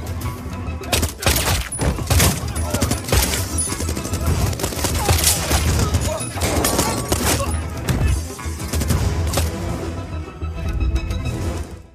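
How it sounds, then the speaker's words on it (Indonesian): Loud gunfire in an Indian action film, with rapid bursts of shots and crashes in a dense, sustained barrage over a dramatic soundtrack. "Banyak anak buah Big Bull ditembak mati."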